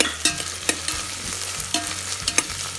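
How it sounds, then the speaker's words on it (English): Onions frying in oil for a Bangladeshi chicken Madras, a loud close hiss of sizzling with rhythmic spoon stirs knocking and scraping the pan every half second or so. "Just go with all of the onions. And give it a good stir."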